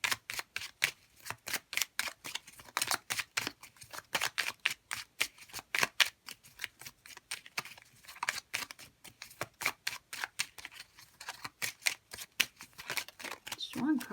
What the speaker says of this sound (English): So let's grab a chakra oracle card.